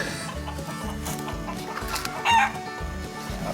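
Chickens clucking nearby in a steady choppy rhythm, with a rooster crowing once briefly over them, close and fairly loud, with no voices.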